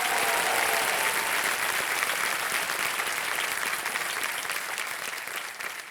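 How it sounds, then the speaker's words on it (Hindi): Sustained, dense applause from a studio audience at a Hindi quiz show taping, loud and steady throughout before tapering slightly toward the end, with no voices over it. "तालियां बज जाए इनके लिए।"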